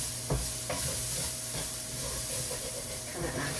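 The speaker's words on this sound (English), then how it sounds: "Kind of activates some of the seasoning by cooking them first in a hot skillet." Spices sizzling in a hot skillet, a steady close hiss with occasional stirring scrapes and clicks, no talk.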